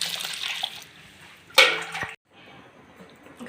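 Water pours in a steady rushing stream over wheat starch being washed, then a louder splashing burst before the flow cuts off abruptly, leaving quiet.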